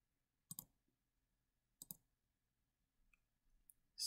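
Keys on a TI-84 graphing calculator are pressed in a quiet room, giving two crisp, close double clicks about a second apart, then fainter taps and a brief louder rustle at the end.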